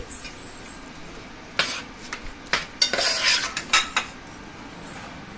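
A spoon stirs a mixture containing a little oil in a pot, giving irregular close metallic clinks and scrapes in short bursts over a quiet background.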